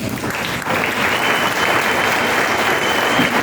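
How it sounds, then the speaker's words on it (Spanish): Steady applause from a crowd, dense and continuous clapping that fills the whole stretch at an even, loud level. "denle un aplauso al Señor"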